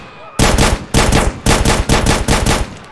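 A rapid series of loud, sharp pistol gunshots in GTA with remastered next-gen weapon sounds, about a dozen cracks fired in quick bursts, close and punchy.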